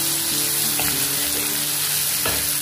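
Onion-garlic masala fries in a hot pan, a loud continuous sizzle with a couple of brief stirring scrapes and no voices.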